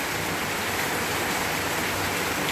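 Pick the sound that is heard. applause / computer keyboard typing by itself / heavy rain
heavy rain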